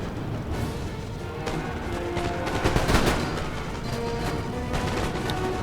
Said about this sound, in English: So now these Grenzers are going to get really good fire onto this foot guard's flank.